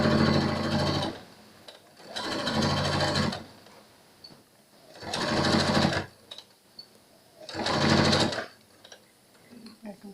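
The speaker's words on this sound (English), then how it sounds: "And then this one you sew all the way down." A sewing machine stitches a pleated fabric face mask in three or four loud bursts of rapid, whirring stitching, separated by quiet pauses and faint handling sounds.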